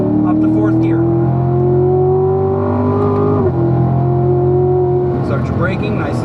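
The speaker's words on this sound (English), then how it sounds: "Nice smooth acceleration up to 4th gear." A race car on the Spring Mountain track accelerates smoothly up through the gears to fourth, its engine note loud and close, rising in pitch with a shift midway.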